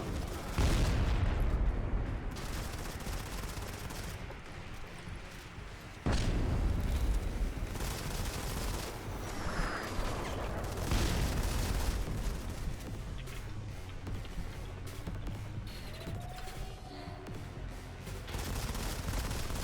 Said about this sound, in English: They've got the airstrike coming in